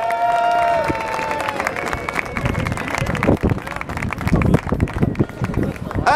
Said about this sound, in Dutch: Uw applaus voor Lukas Wisniewski